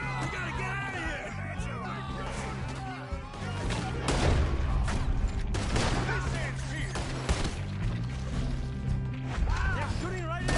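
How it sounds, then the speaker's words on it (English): A chaotic gunfight in Red Dead Redemption 2, with repeated gunshots and crashes under continuous shouting and talking voices, loud and busy throughout. "They're shooting right at me!"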